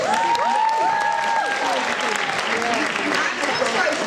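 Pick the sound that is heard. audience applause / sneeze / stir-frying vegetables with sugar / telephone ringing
audience applause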